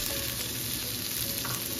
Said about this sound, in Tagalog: Tapos sunod na natin yung sibuyas. Tapos lagay na natin yung ating shrimp.